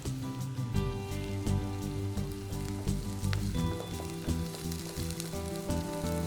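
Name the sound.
curry leaves and green chillies sizzling in a kadai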